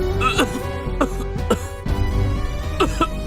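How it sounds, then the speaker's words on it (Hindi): A young man coughs repeatedly in short bursts, several harsh coughs spaced across a few seconds, close and fairly loud over a low background hum. "पर खांसी तो रुक ही नहीं रही"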